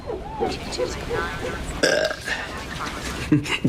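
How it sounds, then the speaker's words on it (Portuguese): A man in a film scene about a pancreatic cancer patient belches over and over, a run of loud, close burps spread across a few seconds amid other voices talking. "Ele arrotou 17 vezes em 10 minutos."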